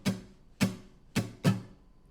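Muted acoustic guitar strums in a song's strumming pattern: four percussive, choked strokes in a quick uneven rhythm, close and dry, with no speech.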